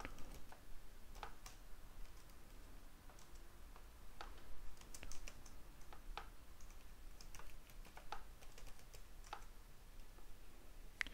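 Quiet computer keyboard typing while entering a PowerShell command, scattered soft key clicks at an irregular pace over low background hiss.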